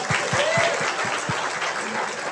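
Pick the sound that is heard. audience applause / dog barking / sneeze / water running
audience applause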